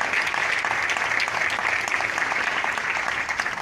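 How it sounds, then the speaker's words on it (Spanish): Strong applause from a crowd at a Partido Verde political rally presenting local and federal deputy candidates in Puebla, steady dense clapping throughout, loud and close. "pido un fuerte aplauso al Capi por haber aceptado la invitación del Partido Verde"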